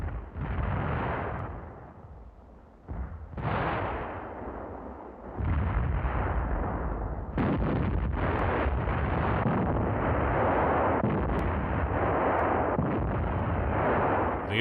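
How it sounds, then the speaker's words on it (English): Heavy artillery fire on a battlefield, with repeated deep booming blasts and rumbling explosions rolling into one another, loud and sustained with no voices over it. "The effect of the artillery fire."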